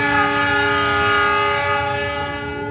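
Siliwangi passenger train locomotive horn blaring at departure, one long sustained loud blast close by, gradually fading slightly toward the end.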